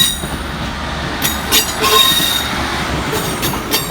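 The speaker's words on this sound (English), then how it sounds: "Departing next from the station is 150-150 and 156409 with the 1709 Northern service through to Chester" A Northern passenger train, unit 156409 coupled with 150150, pulls out of a station with loud, sustained wheel squeal and intermittent high screeches over a steady rumble, fairly close by.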